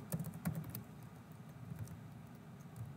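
Light tapping on a computer keyboard while entering a spell-casting command into a program, a quick cluster of keystrokes followed by scattered softer clicks over quiet room tone.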